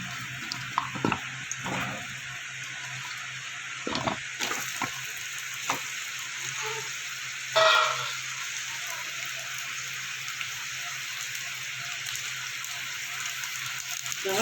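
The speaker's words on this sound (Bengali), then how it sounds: "আরেকটা পাত্রে তেল গরম করে আলুটা ভেজে নিচ্ছি" Potatoes fry in hot oil in a pan as part of a rohu fish curry preparation, giving a steady, moderate sizzle with a few brief clinks and knocks near the start and one sharper bump midway.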